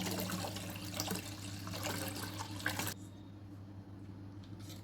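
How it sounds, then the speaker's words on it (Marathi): Two glasses of water poured into a strained mint and lemon paste for a summer cooler, a steady splashing rush for about three seconds that then stops, leaving quiet room tone. "पाणी घालूया 2 ग्लास."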